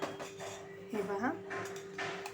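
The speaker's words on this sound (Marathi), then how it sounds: "हे दही छान असं साखर मिक्स करायचं आहे" A spoon stirs sugar into curd in a bowl, giving faint, scattered scraping and clinking sounds in a quiet kitchen.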